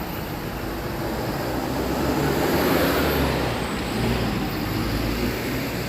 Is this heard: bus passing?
yes